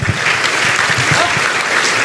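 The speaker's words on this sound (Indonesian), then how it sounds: "Tepuk tangan buat siapa namanya?" Steady, dense applause from an audience at an Indonesian leadership training event, loud and continuous throughout with brief voices faintly mixed in.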